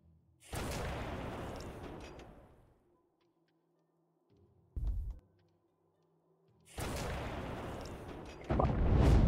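Heavy booming gunfire from an enemy in Doors Paradox arrives in long, rumbling blasts separated by near-silence, with a short thump in between and a louder burst at the end.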